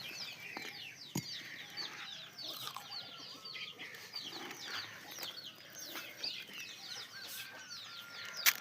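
Country chickens and roosters cluck and call repeatedly while feeding at troughs on a farm, with scattered bird chirps and an occasional flap, moderately near and steady throughout, no talking.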